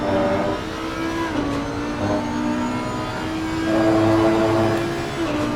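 A race car braking into a hairpin at Circuit of the Americas (COTA) sounds as a loud, close engine drone whose pitch drops and shifts as it slows, then rises again, heard alone without voices.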